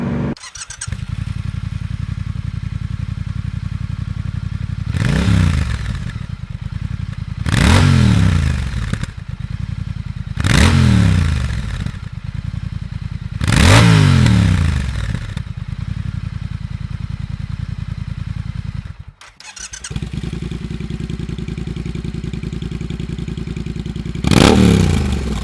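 Triumph Speed Twin motorcycle fitted with British Customs Turn Out exhaust tips, idling loudly and steadily, then revved in five or six sharp throttle blips spaced a few seconds apart, each rising and falling back to a rumbling idle, close by.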